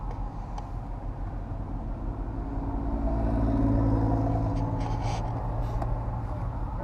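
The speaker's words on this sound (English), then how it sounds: "looks like we might have a synchro Vanagon coming out of the park here" A Volkswagen Synchro Vanagon leaving a park in Yellowstone drives past with a steady low engine rumble that swells and fades, heard from inside a vehicle, with no talking.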